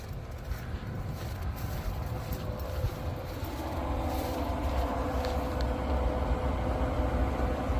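Strong outdoor wind buffets the microphone near a smoker, a continuous rushing roar with low rumbling gusts that swell louder in the second half, with no voices.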